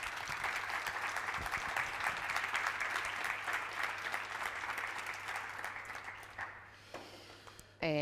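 An audience applauds as a guest is welcomed at a cultural talk, with dense, sustained clapping for about seven seconds that fades out, after which a voice starts to speak.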